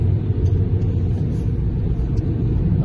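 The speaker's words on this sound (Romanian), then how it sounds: "E trafic" Road traffic rumbles on steadily from start to end as a low, continuous roar with no distinct passes, and no one speaks.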